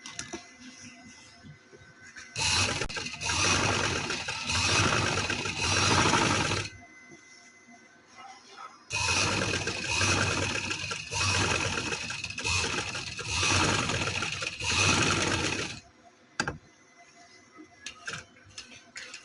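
A sewing machine stitching cotton trouser fabric with Anchor thread, running in two long steady bursts of fast mechanical chatter separated by a short silence, ending with scattered clicks, close and loud with no talk.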